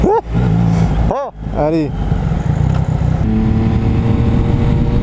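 A car engine revs hard several times, sweeping up and down with quick gear-shift changes, then settles into a steady drone. Someone talks over it in French.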